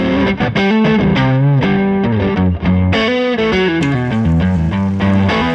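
Electric guitar played through a warm overdrive, a sustained melodic line with bent, singing notes, loud and close with no voices.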